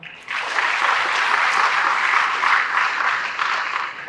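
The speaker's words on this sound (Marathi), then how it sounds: "आपल्या आईवडिलांसाठी आपण एकदा टाळ्या वाजवूया" Students in a college hall break into sustained applause for their parents during a first-year welcome address, the clapping starting abruptly and holding as a dense, loud, steady crowd sound for about four seconds.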